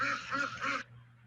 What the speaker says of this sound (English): So we've got the squawking ducks